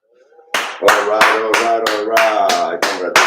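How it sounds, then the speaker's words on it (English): Hands clap in celebration at the end of a sunrise meditation session, about eight brisk, regular claps, close and loud, layered over a sustained voice or tone heard throughout. "Let's clap."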